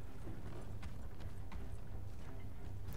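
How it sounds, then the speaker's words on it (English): Heavy footsteps of a mini boss in the video game God of War thud in an uneven clopping rhythm over a low, rumbling background. "You can hear his heavy footsteps."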